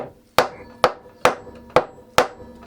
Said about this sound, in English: Really hammer those in hard